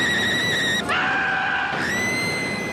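Riders scream on the Mind Bender roller coaster at the indoor Galaxyland park, a loud, sustained, high-pitched wail that shifts pitch midway and holds for nearly three seconds.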